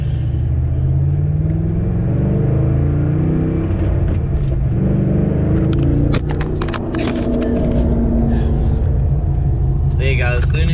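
A sleeper BMW 5-Series with a swapped LS1 V8 revs and accelerates, its deep rumble loud and continuous through the rear muffler, with engine pitch climbing midway and a voice speaking over it.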